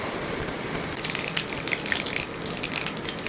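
Mustard seeds spluttering in hot sesame oil in a kadai: a dense, crackling sizzle with scattered sharp pops, steady and close, no voices.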